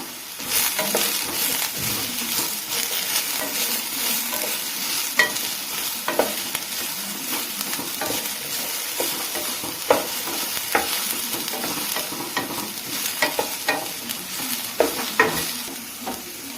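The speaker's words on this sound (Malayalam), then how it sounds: "അതിലോട്ട് അരിഞ്ഞു വെച്ച് 2-3 ചെറിയ മീഡിയം സവാള അരിഞ്ഞു വെച്ച് അതിടാം. രണ്ട് തണ്ട് കറിവേപ്പില ഇടാം." Sliced onions and curry leaves fry in a pan for a Kerala bitter gourd theeyal, a steady close sizzle running throughout with occasional scraping stir clicks and no voice.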